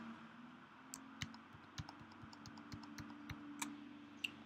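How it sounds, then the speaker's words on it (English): Computer keyboard keys, Shift and the arrow keys, are pressed in a series of crisp, separate clicks at an uneven pace, close and fairly quiet against a low background hum. "I just held down Shift and used my arrow keys to highlight multiple cells"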